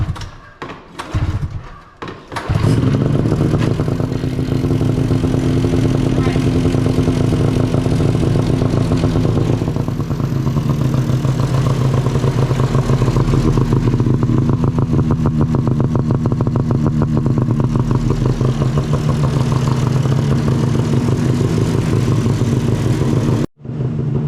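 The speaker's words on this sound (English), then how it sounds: "So I'm gonna say 3 cranks and it fires up." Fuel-injected 1996 Yamaha Vmax snowmobile cranks briefly, then fires and settles into a loud, steady two-stroke idle that runs close and unbroken for about twenty seconds.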